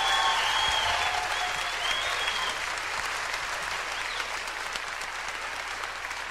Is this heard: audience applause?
yes